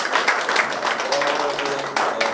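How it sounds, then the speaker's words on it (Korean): Audience applause for presenters and panelists at a Korean policy forum on preserving the cultural heritage of western Hwaseong, a steady patter of many hands clapping in a hall that swells slightly near the end. "6분의 그 주제 발표해 주시고 또 토론해 주신 6분에게 다시 한번 큰 박수를 좀 부탁드리겠습니다"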